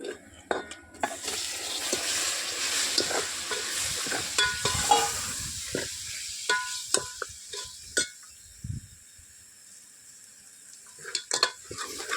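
Mutton frying with Malvani masala sizzles and hisses in the pan as it is stirred. The sizzle fades to a quieter stretch broken by scattered clinks and scrapes of utensils against the pan, with no talking.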